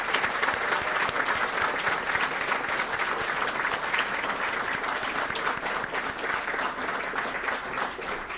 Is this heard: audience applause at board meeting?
yes